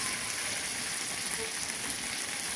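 Cardamom pods and onion frying in a pot for Kabuli pulao give off a steady, close hiss of sizzling oil that stays even throughout, with no distinct pops and no talking.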